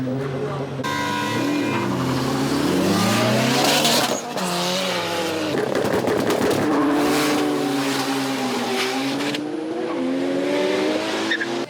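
Loud, close car engines rev and whine as drifting cars slide at a night street drifting scene in Vladivostok, Russia, with tire squeal and shifting engine pitch over a busy crowd.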